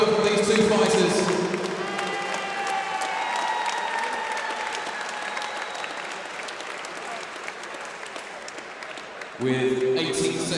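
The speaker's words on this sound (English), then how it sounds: "Ladies and gentlemen, can we have a big round of applause for both of these two fighters?" A boxing crowd applauds both fighters after the referee stops the bout in round four, with a loud burst of clapping at the start that eases into sustained applause. A voice rises over it near the end.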